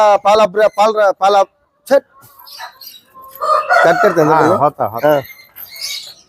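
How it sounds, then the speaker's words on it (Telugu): An Aseel rooster crows loudly, its harmonic call stretching over a couple of seconds, after short clipped sounds at the start and before quieter background noise. "సో ఇది పుంజులు చూద్దామండి"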